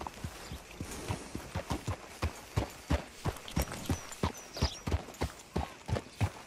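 Horse hooves clip-clop in Red Dead Redemption 2, a steady walking rhythm of crisp, fairly close hoofbeats continuing throughout.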